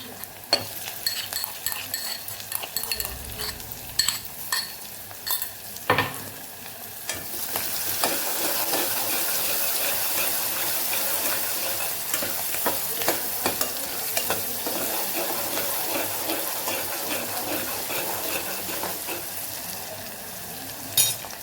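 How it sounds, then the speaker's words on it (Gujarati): A coarse paste of ginger, garlic and chili sizzles in a pan for Kathiyawadi vaghareli khichdi. Stirring scrapes and light utensil clinks come first, then a loud, steady frying hiss builds and carries on with no one talking. "આદુ લસણ ને મરચાંની જે દરદરી પેસ્ટ કરેલી એ આપણે સાતળી લેવાની છે"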